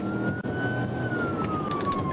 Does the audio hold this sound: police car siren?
yes